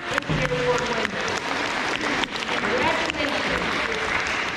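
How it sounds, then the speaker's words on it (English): At an elementary school awards ceremony, a crowd claps for engineer award winners, a steady wash of applause with voices and scattered calls rising over it. "Round of applause for those engineer award winners"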